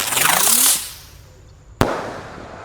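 A ski cruiser firework, set off along with other firecrackers buried in the ground, whooshes up with a rising whistle, then bursts in one sharp bang followed by a crackling tail, outdoors with no talk.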